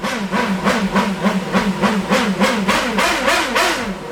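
A Formula 1 V8 racing engine idles close by while warming up, its rough note pulsing in a quick, steady rhythm with a hissing edge.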